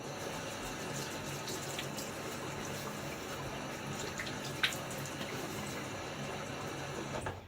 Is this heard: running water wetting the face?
yes